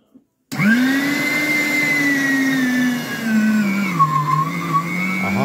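A SilverCrest electric mincer from Lidl mincing bread starts abruptly and runs as a loud, steady motor whine that sags lower as it strains on the bread, with a few bumps near the end.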